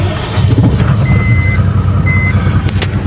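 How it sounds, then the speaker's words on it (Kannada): A truck trailer starts up and idles loudly with a low engine rumble while intermittent high reversing beeps sound over it, close by. "ಈಗ ನಾವು ಟೇಲರ್ ಚಾಲೂ ಮಾಡಕತ್ತೀವಿ."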